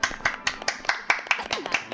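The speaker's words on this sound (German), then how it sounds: "Jetzt kriegst du einen Applaus." Applause in the video game LEGO Harry Potter: Years 1-4: a handful of hands clap in a quick, steady rhythm, about eight sharp claps, with a voice speaking faintly over them.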